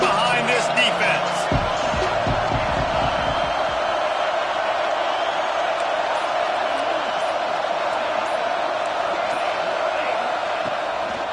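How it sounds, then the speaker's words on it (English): A football stadium crowd roars steadily throughout during a big third-down defensive stand, a dense, continuous wash of cheering that stays loud from start to finish, with a few sharp thuds early on. "Big third down as the crowd gets behind this defense."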